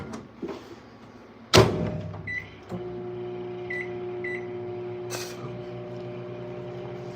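A door thumps shut, a few soft beeps sound, then a microwave oven hums steadily and evenly, close by with no talking.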